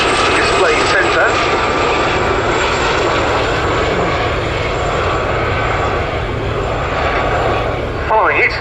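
A formation of Westland Gazelle helicopters passes at the Cosford Air Show, producing a loud, continuous engine and rotor roar throughout, with a commentator's voice running over it.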